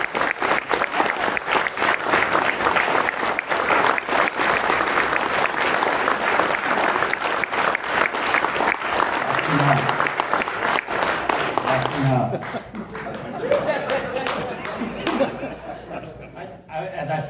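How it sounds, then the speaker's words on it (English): A reunion program audience applauds the year's winner with loud, dense clapping for about twelve seconds, then it fades into scattered claps, chuckles and crowd chatter. "please join me in a round of applause for this year's winner,"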